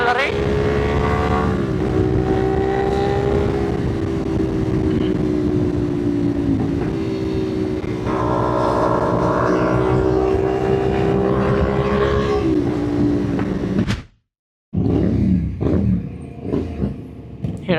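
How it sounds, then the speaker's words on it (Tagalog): Motorcycles on a charity ride roar along steadily with a continuous engine drone that rises and falls in pitch, briefly cutting out near the end before resuming, with voices speaking over it. "Ganda ng tunog ng mga motor nila rin."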